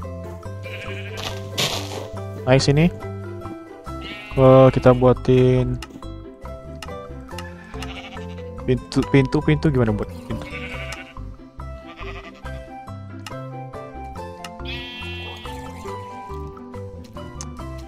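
Sheep bleating repeatedly in Minecraft survival, several wavering bleats close by with dripping water sounds, while a person talks over them.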